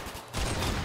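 Gunfire from a rifle in the Roblox shooter Arsenal, a dense burst of rapid shots starting abruptly after a brief lull and continuing steadily to the end.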